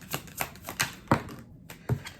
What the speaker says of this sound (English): Let's get some cards for that.